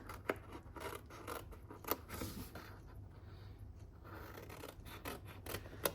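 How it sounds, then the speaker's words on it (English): Scissors cutting the corners off a paper tab on a butterfly treat box, a series of quiet crisp snips and rustles spaced irregularly, close and faint, no talking. "And then we're just gonna cut the corners off of that tab."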